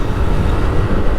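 A Yamaha YBR 125cc motorcycle cruises in fourth gear at about 6,000 rpm, its engine a steady, even drone mixed with wind rush, with no one talking.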